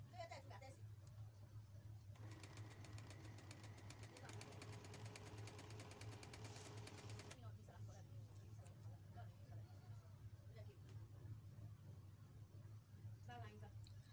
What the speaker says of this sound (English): So I'll just take it to my sewing machine and just connect them.